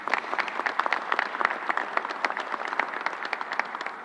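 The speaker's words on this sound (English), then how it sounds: "Let's give them a round of applause." Audience applause at a New York City mass vaccination site event, a steady dense wash of many hands clapping at moderate distance, with no speech over it.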